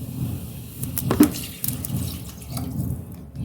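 Water being poured into a cooker of lotus stem curry: a brief close splash and trickle over a steady low background hum.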